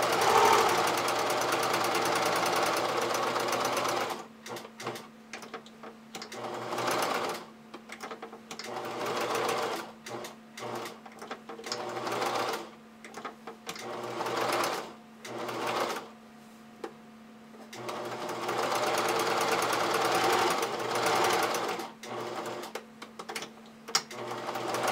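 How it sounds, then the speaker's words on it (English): A sewing machine runs a zigzag stitch over the edge of a fabric muzzle piece for a pug add-on, loud rapid mechanical chatter in bursts with short pauses between runs. "So my zigzag stitch is just running over the edge"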